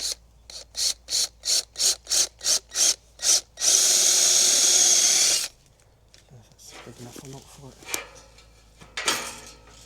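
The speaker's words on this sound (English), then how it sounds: "But we'll drill the hole now." A power drill whirs in about ten short bursts, then one longer sustained run, drilling a hole while fitting a fence gate, followed by clattering and handling noises nearby.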